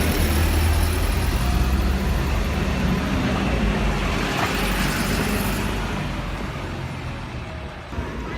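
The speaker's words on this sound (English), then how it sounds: "There she goes on her bus" A city bus pulls away from a stop in windy Edinburgh, its engine rumbling loud and close over steady traffic noise, then gradually fading as it drives off.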